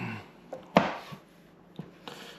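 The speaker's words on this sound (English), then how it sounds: "I generally just give them a rough chop." Vegetables for a Greek salad roughly chopped on a board: a handful of sparse, uneven knife knocks, one sharp and loud, the rest softer, in a quiet kitchen.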